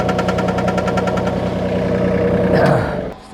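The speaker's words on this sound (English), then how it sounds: "I'm going to put this into the tractor again and just hoist it up just a little bit more." A tractor engine runs steadily nearby while hoisting a beam during a DIY tiny home build, giving a loud, even idling drone with a rhythmic knock that drops away abruptly near the end.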